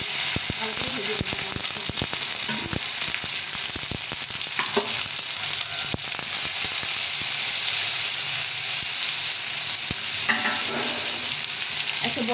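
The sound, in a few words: tomato paste frying with dry chilli, cumin and bay leaves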